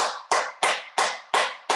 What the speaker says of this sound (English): Just clap, clap, clap, clap, clap.